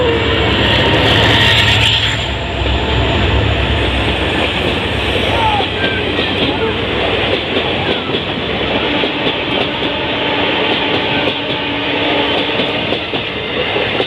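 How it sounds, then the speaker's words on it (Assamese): A Silchar-to-Agartala passenger train rolls past close by near Srikona, Silchar, a loud, continuous rumble with metallic clatter from the wheels that holds steady throughout. "আহি আছে বৰ্তমান এখন ট্ৰেইন।"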